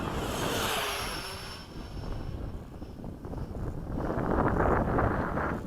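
A radio-controlled F-16 jet model cruises at half throttle above Bayside, a steady airy engine rush with wind buffeting the microphone, swelling louder toward the end.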